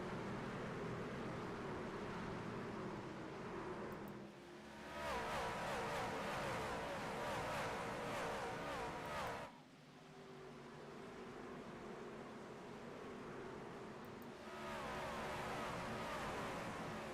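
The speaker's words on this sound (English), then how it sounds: "Around goes a couple trucks" Race trucks circle an oval track in a GLSR event, a continuous roar of engines with surging passes and brief dips as groups go by, fairly loud with no talk.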